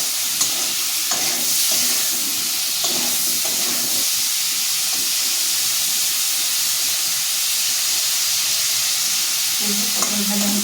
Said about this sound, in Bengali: দিয়ে পটলটা এবারে ভাজা বসালাম